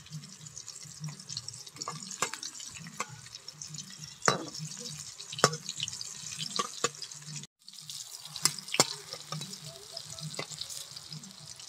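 Lentil cakes (dhoka) frying in white cooking oil, with a steady close bubbling sizzle and a few sharp clinks as pieces are turned; the sizzle breaks off briefly, then resumes.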